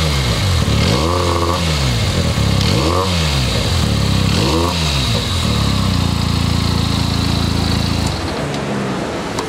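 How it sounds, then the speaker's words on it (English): A Benelli twin-cylinder naked motorcycle engine rumbles loudly up close, revved three times in quick rising-and-falling surges, then settles into a steady idle. "I'll just start the bike for you."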